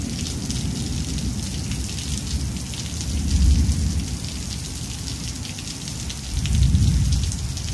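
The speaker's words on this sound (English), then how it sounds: "Hear God's voice through each thunder roll." Heavy, constant rain hisses over a steady wash of drops while deep rolls of thunder swell twice, low and rumbling, each building for a few seconds before fading back under the downpour.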